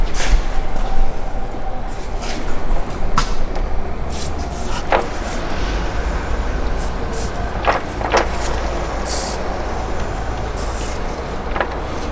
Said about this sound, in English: It's backlash of the diff before the diff hits the final drive.